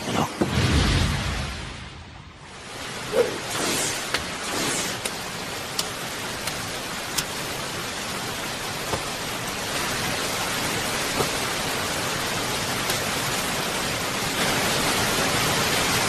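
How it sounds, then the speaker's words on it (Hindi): Steady rain falls in an anime scene, a dense continuous hiss that briefly dips near the start before returning, with faint patter and occasional drops. "बारिश हो रही है"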